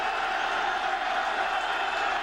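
A crowd roars steadily at a college football game in Spartan Stadium, a broad wash of cheering noise that holds at a constant level throughout.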